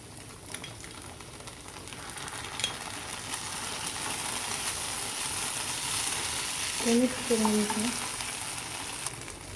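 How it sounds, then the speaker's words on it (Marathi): Vegetables for Schezwan fried rice sizzle steadily in a hot pan as red chili sauce goes in, a constant hiss with stirring scrapes and a brief voice near the end. "जो रेड चिली सॉस घेतला होता तो आपण टाकून घेणार आहोत त्याच्यामध्ये"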